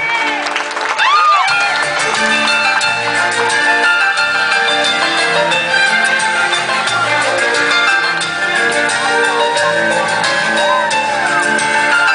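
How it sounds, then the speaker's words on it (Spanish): A crowd claps and cheers at a quinceañera crowning, with sustained applause, whoops and shouts under loud music, and voices call out over the noise. "Venga fuerte el aplauso que se escuche."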